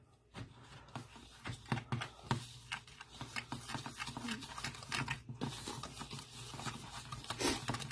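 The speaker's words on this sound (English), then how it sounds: "now I'm actually just going to whisk it together" Casserole ingredients with onion powder being whisked in a bowl, rapid irregular clicking and tapping strokes at close range, alone and continuing throughout.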